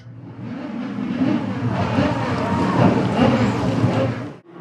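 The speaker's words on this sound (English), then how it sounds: "Drivers, start your" Legends race cars at Tomah Sparta Speedway fire up together, a loud, rumbling cluster of engines building and idling for several seconds before cutting off.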